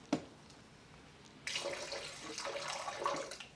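Quarter cup of water poured into a soy-based short rib marinade, a sudden quiet stream and splash that begins after a faint knock and runs steadily for about two seconds.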